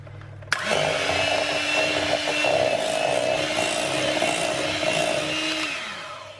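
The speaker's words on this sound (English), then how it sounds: "now we're going to whisk it until it's nice and smooth and creamy." Ricotta, just over a pound, is whisked smooth in a large bowl for a baked cheesecake. A steady, close motor-like whir starts abruptly and runs for about six seconds before cutting off, with no talking.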